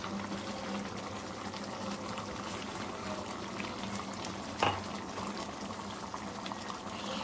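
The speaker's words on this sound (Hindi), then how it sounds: "अब इसे तेज़ आंच पे 2 से 3 मिनट पकाऊंगी" Mutton karahi cooks on high heat in a pan, giving a steady, even sizzling hiss throughout, broken once by a brief utensil clank near the middle.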